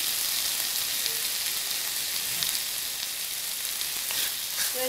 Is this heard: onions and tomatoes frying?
yes